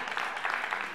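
An audience claps briefly at a faith gathering, a short burst of soft, scattered hand claps heard at a distance with no talking over it.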